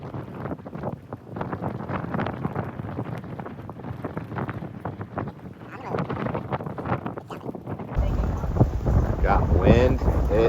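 A fresh breeze buffets the microphone aboard a sailboat heading out between tropical islands, a steady gusty rush of wind and water noise that grows stronger and louder toward the end, with a voice talking faintly beneath it.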